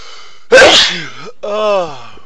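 One loud, close sneeze bursts out sharply, then trails off. A brief voiced sound follows right after it.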